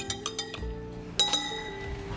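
A spoon stirs liquid laundry detergent solution in a glass or hard container, giving a run of bright, close clinks and rings, several quick taps early and a louder pair of strikes midway, with faint liquid swirl between.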